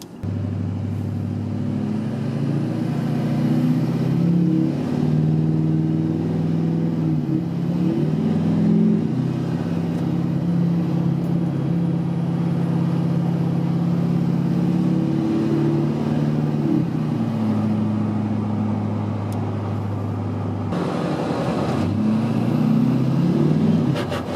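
An LBZ Duramax diesel pickup truck idles steadily and fairly loud, a low droning engine hum that holds for most of the clip, drops slightly near the end and then rises again.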